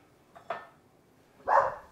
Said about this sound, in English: Odie, it's not the time to bark.